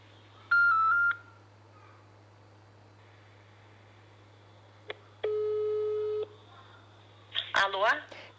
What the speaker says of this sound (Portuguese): Vamos ligar aqui para a Cláudia